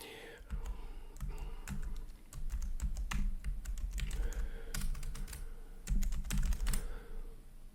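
Someone types on a computer keyboard in uneven bursts of close, clicky keystrokes, with short pauses and a soft murmur of a voice in places.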